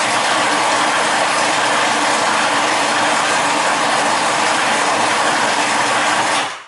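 Food processor fitted with plastic blades mixing chunks of salmon and cod, a loud continuous motor whir with a rattling, grinding texture that runs steadily before cutting off at the end.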